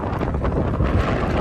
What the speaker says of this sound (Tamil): எப்படி அடிக்குது காத்து